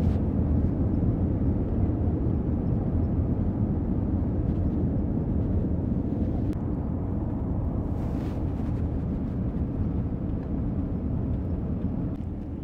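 An airplane engine spools up before a flight, a loud, broad low roar that holds steady and eases slightly toward the end, no speech.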